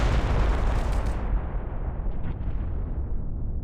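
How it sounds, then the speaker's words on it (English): Gunfire in the video game Reverse: 1999 rumbles as a dense, booming burst of shots and blasts, loud and continuous before easing slightly. "Gunshots?"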